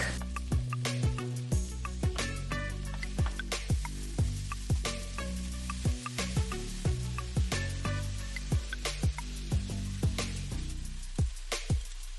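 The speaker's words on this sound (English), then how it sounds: "I added some olive oil in the pan, and then I put in some diced onion, minced garlic" Diced onion and minced garlic frying in olive oil in a pan, a steady close sizzle with scattered sharp pops and clicks of utensils throughout, no voices.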